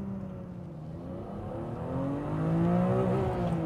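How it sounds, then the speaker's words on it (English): BMW E36 M3 engine pulls hard under acceleration, a steady close rising rev heard alone inside the car, swelling louder as pitch climbs toward the top of the range. "Let's do another pull on it and just revel in this engine."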